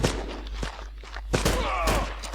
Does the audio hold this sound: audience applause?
no